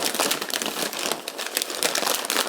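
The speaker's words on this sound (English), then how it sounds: "All right, let's do a regular deli wrap." Deli paper crinkles and rustles steadily as a French dip roast beef sandwich is wrapped by hand, a close, continuous papery crackle with sharp bursts throughout and no talking.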